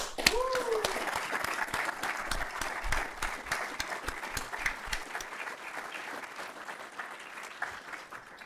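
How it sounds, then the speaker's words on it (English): An audience at a military reserve force event gives a round of applause. Steady, thick clapping carries on throughout, with a brief bit of voice near the start. "This amazing team deserves a big round of applause."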